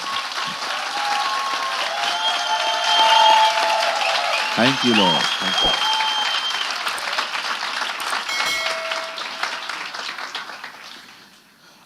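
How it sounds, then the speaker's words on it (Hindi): A church congregation claps for Jesus in a steady round of applause while a voice speaks over it, and the clapping fades away toward the end. "क्या हम सब मिलके यीशु के लिए ताली बजा सकते हैं?"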